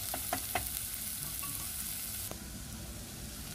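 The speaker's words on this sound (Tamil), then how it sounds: "வெங்காயத்தை வெட்டி எண்ணெய் விட்டு தாளிக்க விட்டுருக்கேன்" Steady sizzling of chopped onions frying in oil, with a few light clinks of stirring near the start; constant and close.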